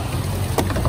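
A fishing boat's engine running out at sea off Bahrain while trolling, a loud steady low rumble with wind and water rush over it and one brief splash-like burst, no voices.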